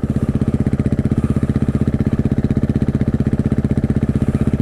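An off-road motorcycle with a Rekluse clutch rides through the desert riding area at Johnson Lane, Nevada. The engine gives a loud, close, steady throbbing putter at an even pulse, holding the same pace throughout with no voices.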